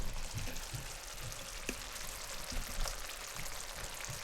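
Chicken cooking in oil and paste in a covered pan over low to medium heat on a stove gives a soft, steady sizzle and bubbling with small pops and ticks, fairly quiet and continuous.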